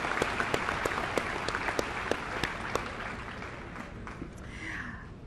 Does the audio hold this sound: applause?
yes